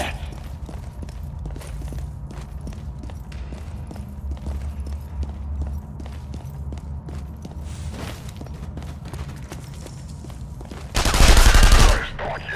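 Sniper gunfire in The Saboteur, a PC shooter, rings out over a steady rumble of battle noise with scattered shots and clatter. A sharp, loud blast near the end stands out above the rest.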